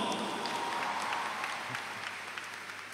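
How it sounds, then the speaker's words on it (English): A graduation convocation audience at BRAC University claps steadily, a dense, even wash of applause filling the hall without pause and tapering slightly toward the end. "I would like everyone to give the graduates a big round of applause."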